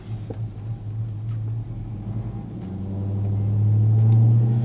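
Texas Speed Stage 4 Silverado 5.3 V8 on a dyno pull in second gear, a loud close engine drone that climbs steadily in pitch and volume toward the end, with no talk.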